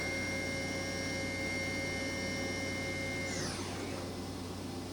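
A Kitamura CNC horizontal machining center's spindle runs at 9,000 RPM with a steady high tonal whine over a constant mechanical hum; near the end the pitch sweeps and shifts.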